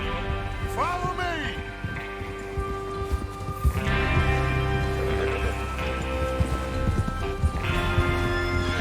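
Horses gallop with rapid hoofbeats amid a busy mix in the video game Red Dead Redemption 2, a horse whinnies early on, and steady rumbling background noise runs throughout.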